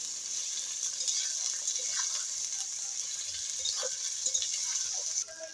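Ingredients for a koi fish (climbing perch) dish fry together in a pan, giving a steady, close sizzling hiss with faint stirring scrapes and small crackles throughout.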